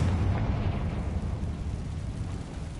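A Confringo fire spell explodes in Hogwarts Legacy, a loud, full-bodied blast whose rumbling low boom spreads out and slowly fades over a few seconds without dying away completely.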